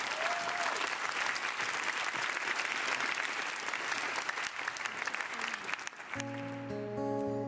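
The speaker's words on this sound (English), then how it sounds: "Super, so warm applause to Bézac Arthur" Award ceremony audience applauding a prize winner, a loud, steady field of clapping that fades near the end as sustained musical tones begin.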